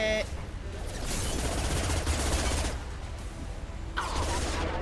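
Gunfire in Mass Effect 2 rolls as a continuous, rapid fusillade of shots, moderately loud and steady for several seconds, with a sharper burst near the end.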